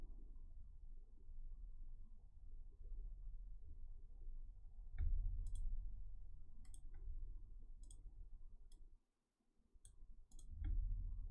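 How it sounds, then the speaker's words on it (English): Cards shuffling in the MTG Arena digital game, a short run of crisp, evenly spaced clicks alone over a faint low hum, followed after a brief silence by a few more clicks. "give our deck a shuffle here"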